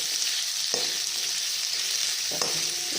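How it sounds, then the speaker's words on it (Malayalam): Chopped onions sautéing in a pan with coriander, chili and turmeric powders and salt for a jackfruit curry, a steady soft sizzle broken by two scraping stirs of the spoon, close and without talk. "ഇപ്പം സവാളയിൽ കുറച്ചിടണം ശേഷം പൊടിയൊക്കെ ഇട്ടിട്ട് നല്ല വഴറ്റുക"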